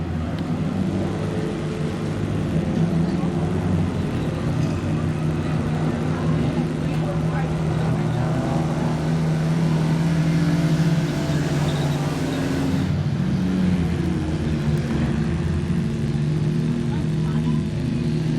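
Junior sedan race cars roar around the Gympie Speedway track in a dense, continuous engine drone that rises and swells as they pass, with a race commentator talking over the noise.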